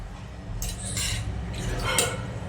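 A spoon stirs spices into tempered buttermilk in a metal pot, giving a few quick, light clinks and scrapes close by over a quiet background.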